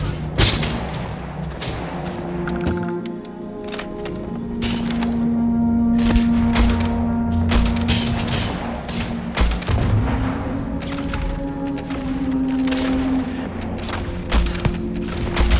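Gunfire during a firefight in Starfield: Shattered Space, with repeated loud cracks and thuds spread through a steady droning game soundtrack.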